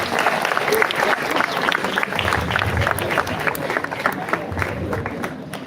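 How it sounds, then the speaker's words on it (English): Sustained applause from a crowd, dense steady clapping filling the whole stretch without letting up. "Give them a big applause here now."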